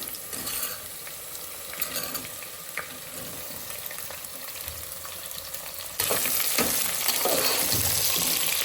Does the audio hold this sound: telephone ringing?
no